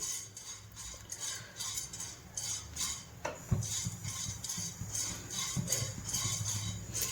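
Jowar (sorghum) grains pop in a hot pan on low gas while being stirred, giving scattered sharp little cracks and clinks over a steady, quiet background.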